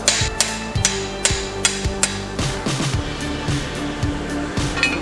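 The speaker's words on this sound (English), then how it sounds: "I'm going to switch to a little bit of a flatter hammer" A flatter hammer strikes thin hot forged steel in a blacksmith shop, gently planishing it with a steady series of sharp ringing blows about every half second, close and clear with no talk.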